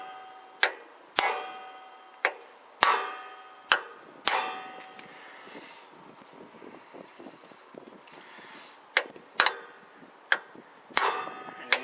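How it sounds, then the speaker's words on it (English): Hammer blows on a socket used to drive a grease seal into an axle hub in a garage: a series of sharp, ringing metallic strikes, roughly one per second, with a brief quieter pause in the middle. "I use the socket as a tool to drive this seal in."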